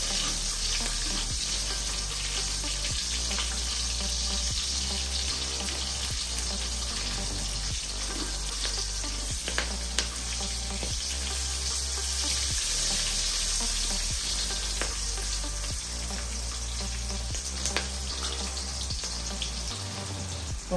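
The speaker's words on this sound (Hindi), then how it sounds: "एक छर्रा हरी मिर्च डालना, अच्छी से भून लेना" Green chillies frying with fennel seeds and poppy seeds in oil for a South Indian vegetable kurma, a steady, dense sizzle running loud and continuous throughout, with a low hum beneath and no talking.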